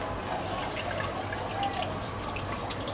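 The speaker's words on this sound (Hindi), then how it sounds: "इसमें मैं पानी डालूँगी।" Water poured into a small pressure cooker holding a ring, ready for a tin of rice: a continuous close splashing trickle that runs steadily for about three seconds, with no talking.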